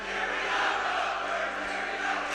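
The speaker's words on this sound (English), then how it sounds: "the Pavilion crowd are really getting into it a little bit now" Crowd at a girls' high school basketball game between Notre Dame and Pavilion, a dense steady roar of cheering voices filling the gym throughout.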